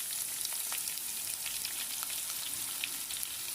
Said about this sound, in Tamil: ஒரு மீடியம் சைஸ் ஆனியன் இது நல்லா வதங்கட்டும்